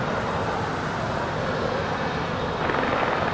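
An airliner rolls for takeoff on runway 25 right at Los Angeles International Airport, a broad steady jet engine roar that swells slightly toward the end, heard from a distance without voices.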